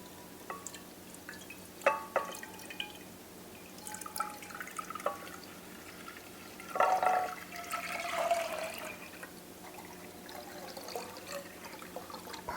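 Milk poured into a pan, a faint liquid splash and trickle building midway and then fading, among a few soft kitchen clinks in a quiet room.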